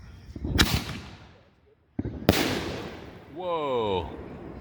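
Backyard Fourth of July fireworks: two loud bursts with crackling tails, a brief lull between them, then rising whistling shrieks as the shells shoot out and strike the ground all around, close by.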